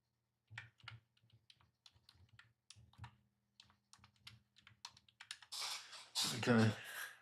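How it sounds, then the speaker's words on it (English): Keystrokes clatter on a computer keyboard in irregular bursts while someone talks over them, ending with a louder rustle and clack near the close. "I can't seem to type and talk."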